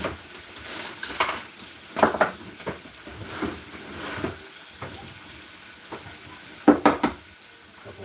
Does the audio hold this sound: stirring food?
yes